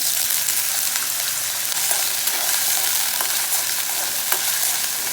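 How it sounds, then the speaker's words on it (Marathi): Finely diced potatoes frying in ghee in a kadai, a steady close sizzle with occasional stirring scrapes running unbroken throughout. "बटाटा परतून घेऊया बटाटा छान परतलेला आहे"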